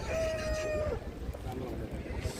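A single rooster crows once at the Gudur rooster market, a drawn-out call lasting about a second, followed by a muffled, busy background of market noise.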